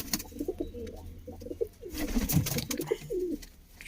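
Repeated soft pigeon coos in a pigeon loft, low and throaty, with rustling and movement noise close by.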